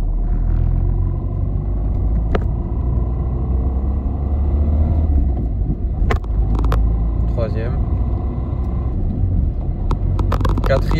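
A Peugeot 207 engine drones in fourth gear while driving, a steady low rumble with road noise running throughout, and someone talks over it.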